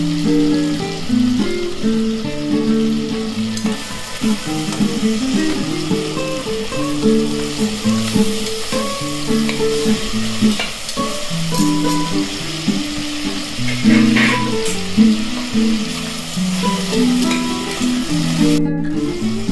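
Onions and tomatoes fry in a pan for soyabean khichdi, a loud, close, continuous sizzle with bubbling and stirring throughout, a sharp clack right at the end.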